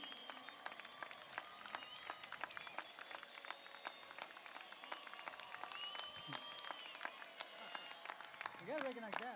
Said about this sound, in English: Please stand up and let's give them a round of applause.